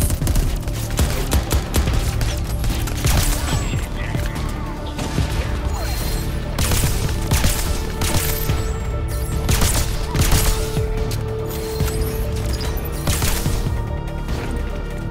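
Plasma rifle fire in the sci-fi game Crackdown 3, rapid loud bursts of shots mixed with crashes and impacts that run without pause through a chaotic firefight.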